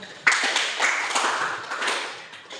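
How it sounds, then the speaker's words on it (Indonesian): A small classroom group gives a brief round of clapping for the first presenting team, with scattered close claps over a couple of seconds. "kita berikan aplaus untuk kelompok 1"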